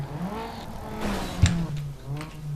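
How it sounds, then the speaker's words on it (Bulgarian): Car drifting through a corner in the Need for Speed racing game, with a steady engine drone, a brief sharp tire squeal partway through, and faint background talk. "Тук малко дрифча и не ми се получава"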